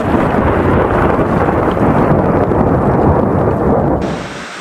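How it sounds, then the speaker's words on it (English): Heavy rain with deep rolling thunder on a rainy night, a loud, continuous roar and rumble that eases off near the end. "It's a nice rainy night."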